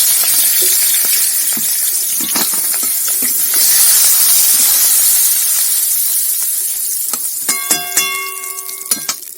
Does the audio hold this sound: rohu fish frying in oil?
yes